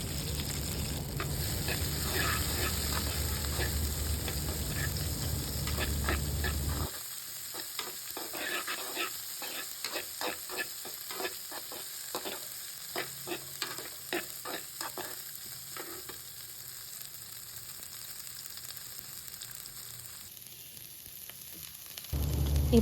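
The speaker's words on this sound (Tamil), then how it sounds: "சேர்த்துட்டு லைட்டாக அந்த ஆயிலோடு வதக்கிக்கோங்க" Chopped broad beans sauté in oil with a steady sizzle, then quieter scraping and tapping as the pan is stirred; the sizzle is fairly close and runs alone without talk.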